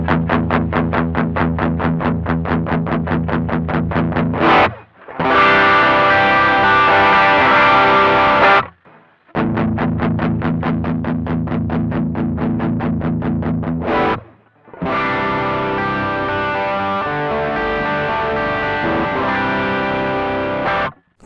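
An electric guitar through a BOSS SD-1 Super Overdrive pedal with its tone knob turned down plays alternating bursts of rapid picked notes and sustained distorted chords, the sound getting darker and more muffled, separated by brief silences.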